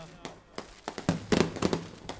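Fireworks at a victory celebration at Governor House Sindh crack and pop in scattered bursts, some in quick clusters, heard at a distance at low level with voices around.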